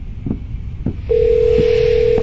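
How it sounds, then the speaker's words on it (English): A phone ringing: a steady electronic tone comes in partway through and holds loud and continuous to the end, after a few soft knocks. "Shut up, phone."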